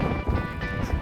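Wind buffets the microphone on a hillside during a pig hunt, a brief rough low rumble of steady gusting noise.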